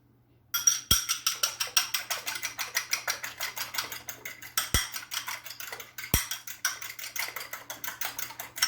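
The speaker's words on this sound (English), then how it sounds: "Just make sure when you're beating your eggs, you just make sure the yolk and the white are all combined in together." Eggs beaten briskly with a utensil in a bowl while making cinnamon buns, a fast steady run of close, loud clicking strokes against the bowl with no talking.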